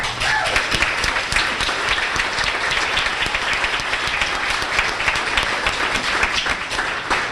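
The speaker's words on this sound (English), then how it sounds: "Nice round of applause for our coaches." A sports banquet audience at Ste. Genevieve High School gives the coaches a round of applause, dense, even clapping from many hands that fills the room steadily throughout.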